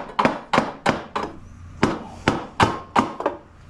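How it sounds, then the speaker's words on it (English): Gentle taps against the case of a Briggs & Stratton small engine to loosen the sump, about nine crisp, close knocks in an uneven rhythm with a brief pause partway through. "Now you're just going to take gently and tap on the case."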